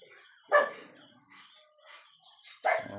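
Dogs bark outdoors in two separate short bursts, one early and one near the end, at moderate distance. A steady high-pitched whine carries on underneath throughout.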